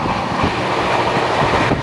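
The Howrah–Guwahati Saraighat Express (12345) runs at about 130 km/h with a loud, close, continuous roar of wheels and carriages and a rapid clatter over the rails.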